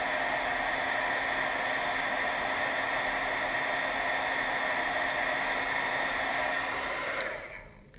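A heat embossing gun blows hot air in a continuous, close, breathy whoosh, like a hair dryer, holding steady for about seven seconds before it switches off and fades out.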